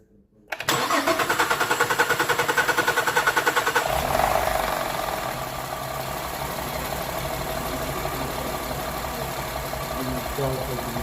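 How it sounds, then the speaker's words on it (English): A 2008 Cadillac STS cranks with a fast, rhythmic starter whir, catches after a few seconds and settles into a steady, fairly loud idle that runs on evenly to the end. "we're going to click start, and we're going to start the car"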